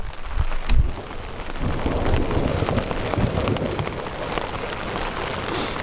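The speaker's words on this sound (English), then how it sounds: "Rain is coming in from the side" Steady rain pours down sideways onto a hammock campsite in Utah, with a couple of low thunder rumbles early on, a broad wet hiss filling the scene throughout.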